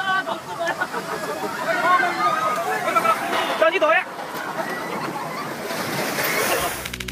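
Ocean waves crash and churn steadily at high tide, with a crowd murmuring and voices mixed in beneath the surf.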